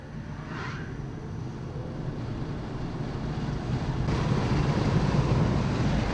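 Kia e-Niro electric car accelerating hard from 0 to 100 km/h, heard from inside as a steady broadband road and wind roar that builds gradually in loudness, with no engine note.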